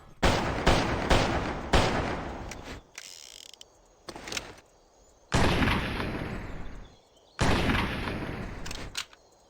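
Gunfire from the Western video game GUN, with the Ferguson rifle, Volcanic pistol and double-barreled shotgun among its weapons, comes as loud, close bursts of rapid shots and blasts with short reverberant tails, separated by brief gaps and mechanical clicks.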